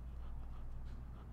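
A dog pants steadily and close up, with faint whimpering whines woven through the rapid breaths, heard alone with no talking.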